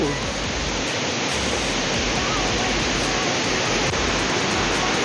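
Than Sawan waterfall in Phu Nang National Park, Phayao, gives a steady, loud, broadband rush of falling water that stays constant throughout with no talk over it.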